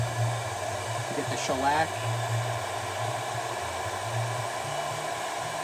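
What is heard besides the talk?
heat gun heating back of saxophone pad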